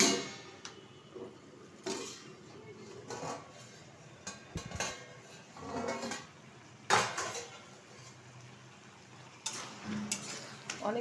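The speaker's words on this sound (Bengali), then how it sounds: "ঢাকনাটা তুলে দিচ্ছি।" Lid lifted off a pot of bottle gourd and fish-head curry, a few metallic clanks and scrapes of utensils against cookware over a faint simmer, in separate close bursts; no talking.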